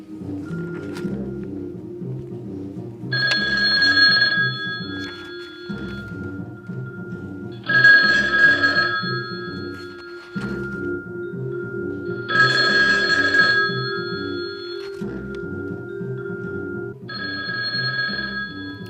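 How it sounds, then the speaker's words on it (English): An old-fashioned telephone bell rings in four separate bursts, evenly spaced with pauses between them, clear and fairly loud over a steady low background. "Either my head or else a phone is ringing."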